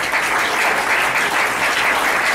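A large church congregation gives a loud, sustained round of applause to the Lord, dense clapping rolling on without pause and with no voices on top.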